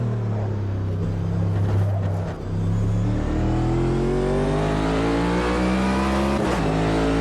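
A NASCAR Next Gen Garage 56 stock car engine races in the Automobilista 2 sim, its loud V8 note rising steadily through the gears with a brief lift mid-run, running alone with no talk.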